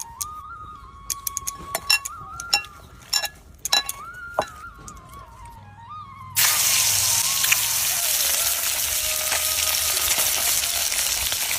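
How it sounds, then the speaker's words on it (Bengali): Lata fish coated in turmeric and salt hits hot oil in a wok, and a loud, steady, close sizzle takes over after several scattered clicks and taps. "মাছগুলো ভাজা হয়ে গেছে"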